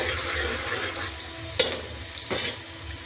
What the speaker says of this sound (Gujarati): હલાવી દઉં છું આ રીતના.